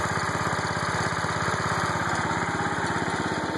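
A John Deere 216 lawn tractor engine runs close by, a loud steady small-engine drone with a fast even firing pulse, smoking slightly, heard alone without talk.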